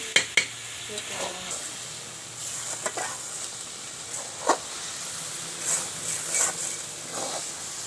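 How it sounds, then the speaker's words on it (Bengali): Spices for a homemade pickle fry in a pan, a steady soft sizzle and hiss broken by occasional scraping knocks as they are stirred, fairly faint and without talk. "এখন দেখো অনেকক্ষণ থেকে ভাজা হচ্ছে"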